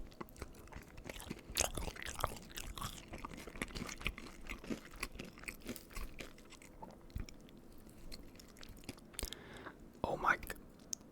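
Close, intimate crunching and chewing of cheese fries (crinkle, waffle and curly fries), with soft bites scattered through the stretch and quiet whispered talk running underneath.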